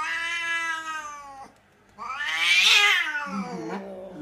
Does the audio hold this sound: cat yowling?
yes